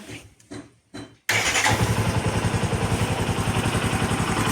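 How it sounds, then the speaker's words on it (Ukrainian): Bajaj Boxer motorcycle engine starts after a few brief cranking bursts, then settles into a loud, steady, rapidly pulsing single-cylinder idle close to the microphone. "Заводимо мотоцикл."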